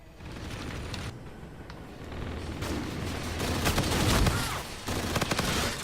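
Gunfire in the shooter game Infinite Warfare with a large-capacity magazine, rapid automatic bursts and scattered shots crackling over a busy battlefield din, growing denser toward the end.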